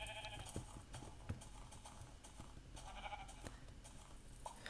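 In Minecraft, a sheep gives several brief, modest bleats scattered over a constant low game ambience, with no talking.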